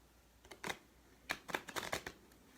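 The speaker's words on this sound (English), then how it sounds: "I'm going to shuffle my angel deck." An angel card deck being shuffled by hand, a few soft riffles followed by a quick flurry of crisp card flutters, close and fairly quiet, with no talking.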